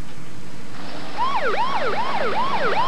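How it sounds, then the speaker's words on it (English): An ambulance siren starts up partway through, wailing in quick repeated up-and-down sweeps, loud and close, over a low background rumble with no speech. "once the ambulance got there"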